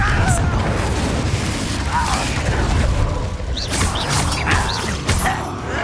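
Explosive Confringo spell blasts in Hogwarts Legacy combat, heavy booming bursts and crackling impacts thick under busy battle noise and mechanical clatter, with a voice calling out over the fighting.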